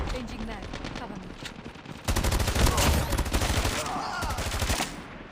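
Rapid automatic fire from the AK117 Dragon's Breath in Call of Duty Mobile, a loud, steady stream of shots that grows heavier midway, with game voice callouts mixed in.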